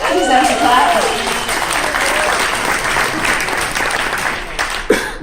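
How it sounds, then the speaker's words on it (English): An audience at the GSS2018 opening speech bursts into sustained applause, with a few voices cheering over the start and the clapping continuing at an even level. "That deserves a clap"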